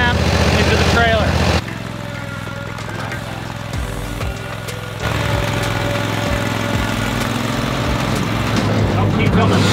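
Toro Titan Max mower driving up a ramp into a trailer, its engine a steady, loud droning hum that dips briefly and then rises again as it climbs.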